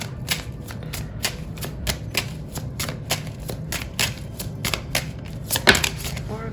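Oracle cards being shuffled by hand in a steady run of crisp, rhythmic riffling flutters, close and fairly quiet, with a brief soft voice near the end.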